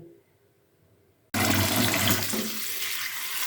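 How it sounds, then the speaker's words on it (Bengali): Quiet room noise gives way abruptly to a tap gushing loudly and steadily as cane greens and spinach are rinsed, the water splashing close by. "এই যে বেতের শাক আর পালং শাক আমি আলাদা আলাদা করে ধুয়ে নিচ্ছি সুন্দর করে"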